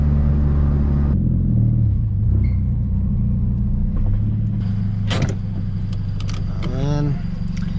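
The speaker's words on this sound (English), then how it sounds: "Car sounds mint. Motor sounds mint." Engine of a Scion FR-S while driving, a steady low rumble heard from inside the car with shifts in pitch and a few clicks and squeaks over it.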